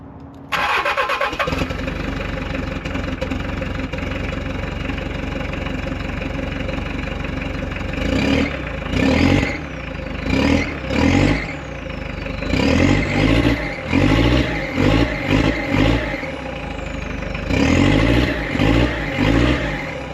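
A Mitsubishi Delica turbo diesel with a custom 3-inch exhaust cranks and catches, then idles with a steady close-up rumble broken by several short revs.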